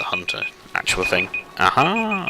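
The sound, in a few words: alarm going off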